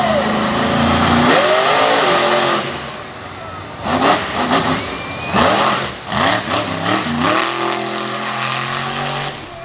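Race car engine revving and accelerating on a dusty dirt track at a North vs South event in Front Royal, loud with repeated throttle surges and rising pitch sweeps, while a commentator talks over it.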